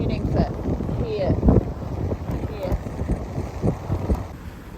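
A sailboat moves under sail in gusty wind near a rocky island, with heavy wind buffeting and water wash filling the scene and faint voices mixed in.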